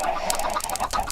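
Chickens clucking in a Minecraft-style video game, a dense overlapping chorus of clucks from many birds, steady and fairly loud throughout.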